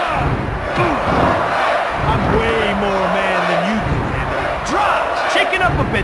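A large arena crowd at a wrestling event in the WWF Attitude video game roars and cheers continuously, a loud, dense wall of voices with an announcer's voice rising briefly above it.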